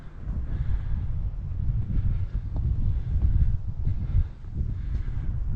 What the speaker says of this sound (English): When you get to an exposed area, the wind is really quite strong and